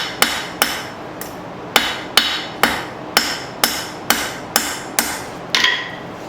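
Sharp hammer blows ring out while forging the bevel of a file knife, about a dozen evenly spaced metallic strikes, each with a brief ringing tail, loud and close with no talk.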